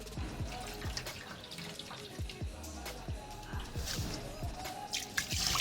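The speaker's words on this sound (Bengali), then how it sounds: "চাল আর ডাল ধুয়ে নিয়ে ভিজিয়ে রাখবো 20-30 মিনিট মতো।" Parboiled rice and masoor lentils are washed in water, giving faint, irregular dripping and light splashing, with soft trickles scattered throughout.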